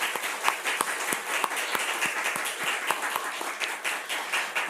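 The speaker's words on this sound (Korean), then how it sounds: "우리 어르신을 위해서 다시 한번 격려 박수 드리겠습니다" Church congregation at a Sunday service clapping in encouragement for the elderly, many hands with distinct sharp claps standing out from a steady crowd patter, close and lively throughout.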